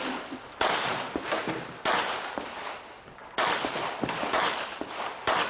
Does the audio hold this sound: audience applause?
no